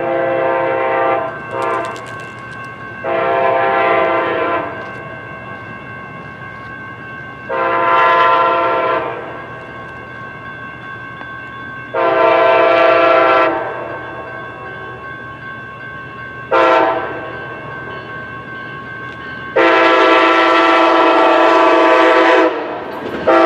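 K5LA air horns on an F-40PH locomotive in Train Sim World 2 sound in a series of loud chord blasts, some long and some short, separated by gaps over a low idling rumble.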